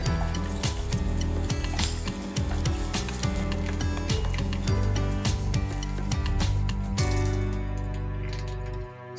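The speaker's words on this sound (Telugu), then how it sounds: "ఆయిల్ బాగా వేడెక్కాక వీటిని ఒక్కొక్కటిగా ఆయిల్లో వేసుకోవాలి." Potato sticks dropped into hot oil in a pan, a loud, steady crackling sizzle with sharp bubbling pops that continues throughout.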